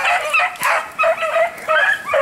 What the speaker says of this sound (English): The dogs, you'll hear them good here.